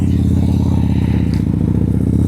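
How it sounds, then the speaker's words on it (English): Harley-Davidson motorcycle with a weak, dodgy battery, its engine running steadily nearby with a loud, continuous rumbling idle and a mechanical clatter, no voices over it. "I've got a Harley with a dodgy battery, so I'm going to have to take it for a bit of a ride."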